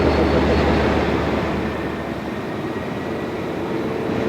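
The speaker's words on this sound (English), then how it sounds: "Just moving the trains around is an art in itself" A train rumbles through railway sidings with a steady, loud low roar and broadband noise that eases slightly over the span, with no talk.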